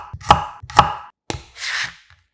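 A knife strikes a cutting board in a few sharp, close chops, coarsely mincing a quarter onion and slicing whole garlic cloves thin; three distinct taps followed by a softer sliding cut, with no talk.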